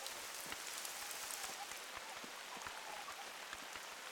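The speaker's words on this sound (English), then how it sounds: "Here comes the rain." Steady rain pours down in theHunter: Call of the Wild, a dense broadband hiss scattered with sharp individual drop ticks, constant and fairly loud with no voices over it.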